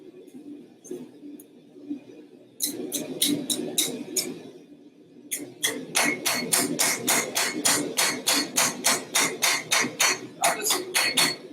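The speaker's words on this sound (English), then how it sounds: "I'll just hammering on the edge of the anvil, put a corner in the copper." Copper being hammered over the edge of an anvil while forming a spatula: clanging metallic blows, a few scattered strikes then a long, steady, rhythmic run of close, loud hits.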